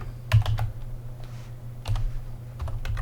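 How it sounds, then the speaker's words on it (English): Keystrokes on a computer keyboard as a terminal command is typed on Ubuntu 24.04 LTS, a steady run of close, light clicks with a couple of brief pauses and no talking. "So we're going to type in sudo nano space, and then we're going to type in Samba"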